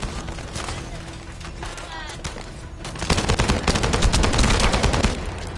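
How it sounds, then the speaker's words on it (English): Rapid bursts of gunfire in the video game The First Descendant crackle loudly, thickening into sustained automatic fire in the second half, with some background chatter early on. "That stopped the gunfire."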